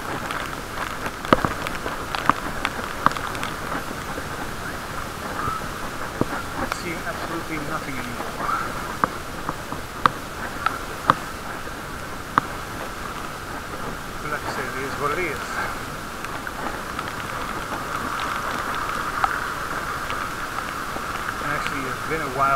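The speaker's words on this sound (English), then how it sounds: "since I was outside in the rain shower" Steady rain falls and patters on surfaces close by during a bike ride, recorded in a waterproof case, with scattered sharp drips and taps throughout.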